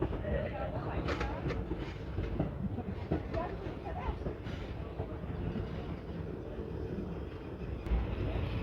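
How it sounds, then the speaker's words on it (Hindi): Freight train pulled by a single locomotive with double-stack wagons, a loud steady rumble with rhythmic wheel clatter and wind buffeting heard close by, with someone talking over it. "डबल मालगाड़ी खींच रहा है, एक इंजन।"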